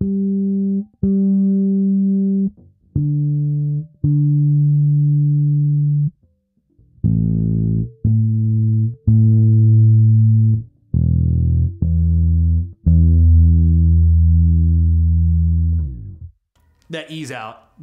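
A Harley Benton PB-50 bass guitar plays a slow line of sustained, deep plucked notes with short breaks between phrases, clean and close, ending with a brief scrape.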